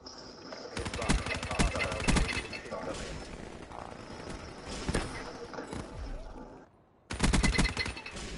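Automated sentry turret firing in the Black Ops 3 multiplayer map Nuketown, sustained loud bursts of rapid gunfire with short gaps and a sharp restart near the end, dense and close.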